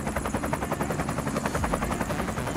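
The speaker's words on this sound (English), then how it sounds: "They stole my helicopter." A helicopter in The Escapists 2 drones steadily with a rapid, even rotor chop throughout, loud and close, with no talking over it.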